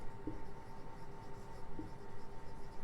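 Marker or chalk writing on a classroom board during a physics lecture, soft continuous scratchy strokes at close range over a low steady room hum, no talking.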